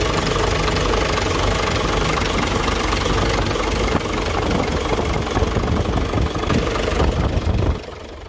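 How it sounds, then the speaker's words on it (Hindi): An overhauled diesel engine runs at idle, close and loud, with a continuous rough, knocking rumble that holds steady for several seconds before easing slightly at the end. "तो कुछ देर के लिए स्टार्ट रखते हैं, फिर एक्सीलेटर दे के भी आपको चेक करवाएंगे।"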